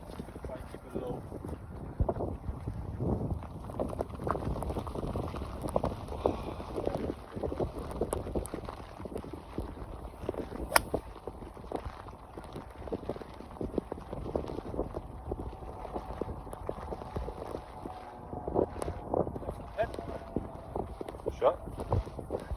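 Strong wind buffets the microphone on a golf course in terrible weather, a steady rough rumble with gusty bursts throughout, while someone talks over it.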